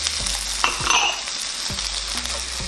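Carrots and cabbage frying in a hot pan, a close, loud, continuous sizzle broken by a few utensil scrapes and clinks, with no voices.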